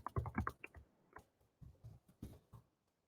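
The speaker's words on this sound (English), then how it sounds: "I'm just going to type in gibberish here, more gibberish, and gibberish right here" Typing on a computer keyboard, entering filler text into a classroom grading rubric, with quick bursts of close, crisp keystrokes, a short pause, then several more clustered taps.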